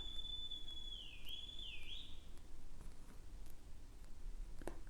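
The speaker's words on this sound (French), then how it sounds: "Vous avez entendu le sifflement dehors?" A single drawn-out whistle with a pitch dip and rise partway through, faint against a quiet outdoor background, followed by a few scattered soft clicks.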